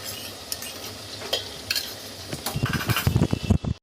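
Mutton kofta curry masala frying and being stirred in a pan, a steady sizzle with spoon scrapes that grow busier and louder toward the end, close up with no voices.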